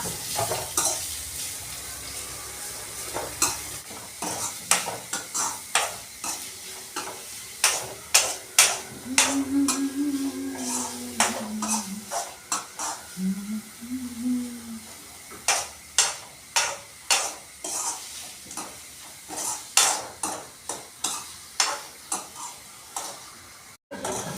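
Two medium onions fry in a pan until reddish, a close, steady sizzle broken by frequent sharp spatula scrapes and taps against the pan in irregular bursts.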